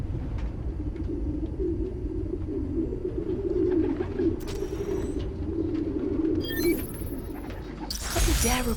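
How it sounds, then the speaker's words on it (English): Pigeons coo softly in a city park inside the video game Spider-Man: Miles Morales, with low repeated cooing over quiet ambient hum and a few brief bright game effects near the end. "There's a lot of birds around here."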